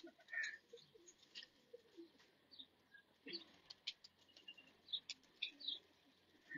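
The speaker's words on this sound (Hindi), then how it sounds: "ये कबूतर" Pigeons coo softly among fanciers' birds, with faint chirps and light fluttering patter in a quiet setting.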